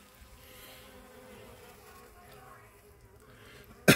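Bees feed at sugar water, giving a faint, steady buzzing hum over a quiet outdoor background, ending in a sudden loud knock.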